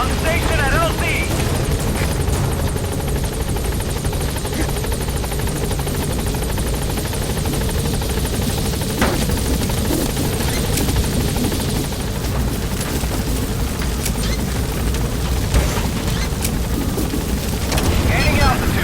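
A helicopter lifts off in Metal Gear Solid V: The Phantom Pain, its rotor wash a loud, steady thrum lasting throughout, with game voices speaking over it.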